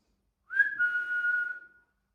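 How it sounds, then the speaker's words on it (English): A single steady whistle rings out in a quiet room, one clear sustained tone lasting just over a second that bends slightly at the start and then fades out. "Or even a whistle."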